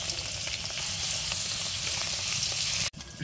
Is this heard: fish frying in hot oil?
yes